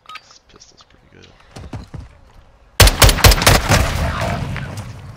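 Rapid burst of pistol fire in an online shooter game, a dense run of sharp loud shots that erupts suddenly after quieter clicks and talk, with gameplay chatter underneath.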